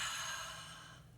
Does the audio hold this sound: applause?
no